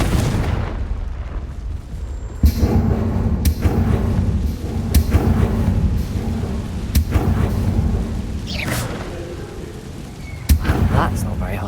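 A Confringo fire spell blasts in Hogwarts Legacy, sounding as a series of loud, sharp booms with rumbling tails that recur every second or two, and a voice speaks in between.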